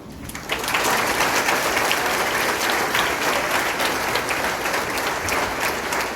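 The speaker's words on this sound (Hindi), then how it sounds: "हम लोग अपने स्वामी को स्वागत तालियों की गड़गड़ाहट से करते हैं" Sustained applause from a church congregation welcoming the bishop at a Holy Mass with confirmation in Singpur parish, Ranchi; dense, steady clapping fills the space for about six seconds with no voices above it.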